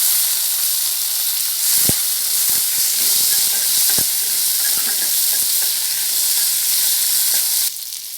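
Tomato and ridge gourd sauté in hot oil, a steady loud sizzle and hiss with scattered clicks and taps of a spoon stirring the pan, no one talking.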